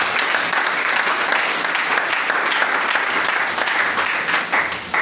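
A church congregation applauding together, a dense, steady wash of clapping that holds loud and even from start to finish with no voices standing out.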